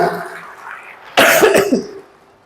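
A single harsh cough bursts out loudly after a quiet murmur, followed by a few rough trailing hacks that fade away.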